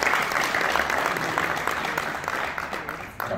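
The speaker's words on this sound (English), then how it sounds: "Ladies and gentlemen, a round of applause for a young scientist in the making" A young scientist is welcomed with steady, dense applause from a symposium audience, continuous and fairly loud throughout without pause.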